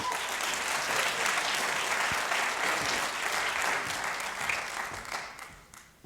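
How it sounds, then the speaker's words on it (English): A studio audience at a team presentation gives a presenter a round of applause: dense, steady clapping from many hands that holds for several seconds, then thins and fades toward the end. "Give him a round of applause."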